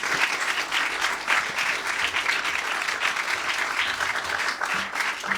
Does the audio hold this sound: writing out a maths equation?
no